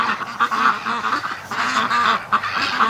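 A handicapped Muscovy duck with a club foot gives repeated hoarse honking calls close by, several short bursts in quick succession amid other fowl noise, with no talking.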